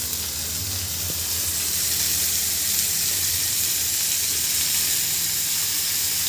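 Onions with salt frying in a pan, a loud continuous sizzle and steamy hiss that holds steady throughout, close and unbroken.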